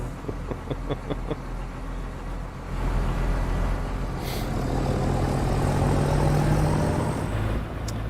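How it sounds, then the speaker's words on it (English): Caterpillar C15 diesel truck engine from a truck-driving video game sound mod, a steady low rumbling drone that swells and holds as if under load, with a few short ticking clicks early on. "Engine sounds C15 right out of Robin Ikus' sound pack there."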